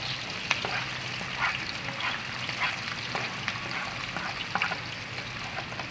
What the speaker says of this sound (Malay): kita masak dia sekejap sampai dia kekuning-kuningan ya